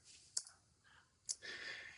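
Two crisp mouse clicks on an on-screen button, close and dry, a second apart, with faint room noise and a soft breathy rustle after the second click.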